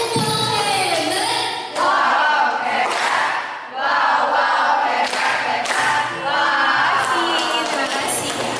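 A group, likely children, shouts and cheers loudly in bursts, with voices rising and falling together and brief lulls between the swells.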